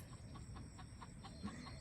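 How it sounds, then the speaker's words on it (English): Backyard chickens clucking in a series of short, evenly spaced calls, fairly close and moderately loud against a steady low background hum, with no talking. "And the chickens. Apparently they want to talk."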